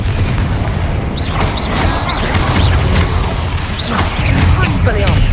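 Confringo blasting spells exploding during Hogwarts Legacy combat, with booming blasts and whooshing spell impacts over a steady, loud game soundtrack and a voice shouting incantations.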